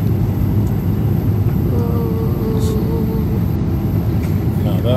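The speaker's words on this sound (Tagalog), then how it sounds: "smooth ng landing namin" Steady loud roar of a Philippine Airlines jet cabin during landing at Los Angeles airport after a Manila flight, a continuous low rumble throughout with faint voices talking over it.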